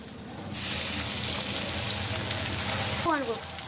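A ground paste of ginger, onion and garlic hits a hot wok and erupts into loud, steady sizzling frying that continues throughout, with a short voice near the end.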